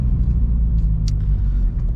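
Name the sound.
Subaru BRZ car engine while cruising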